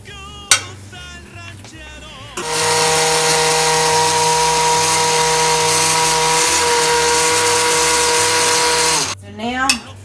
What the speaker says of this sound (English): Some people just get like 2 or 3 Chipotles out and throw in the blender.